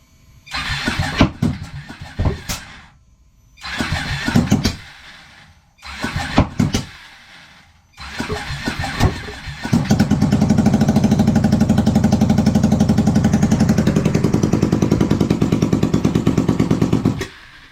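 A Ducati 1199 engine swapped into a Honda Grom and run on a FuelTech ECU, heard as several loud cranking bursts with pauses before it catches and settles into a loud, steady, rapidly pulsing idle, close up with no talking.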